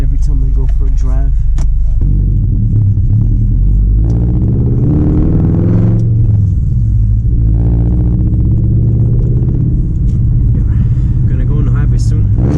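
A loud car engine rumbling close up during the first drive of the year on the road, a deep steady drone with swells as it revs, and a voice speaking over parts of it.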